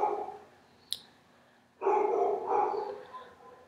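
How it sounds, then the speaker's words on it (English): A pet dog lets out a single sharp bark, followed by a longer bark-like outburst and a brief final yip, all close by with quiet gaps between. "my dog Tom"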